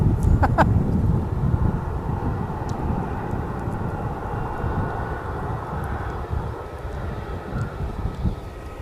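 An aircraft at Manchester Airport gives a steady, low, broad engine rumble that holds evenly throughout, with a couple of brief clicks near the start.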